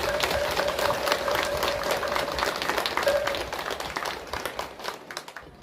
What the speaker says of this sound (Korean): 다시 한번 감사의 큰 박수 부탁드립니다